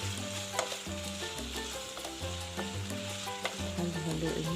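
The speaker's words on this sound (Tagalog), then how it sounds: "Then eto nga, susunod mo na yung chicken. Yan, halu-haluin lang." Chicken pieces being stirred in a hot pan for a Filipino-style chicken curry, a steady close sizzle and frying crackle with repeated scraping stir strokes throughout, no talking.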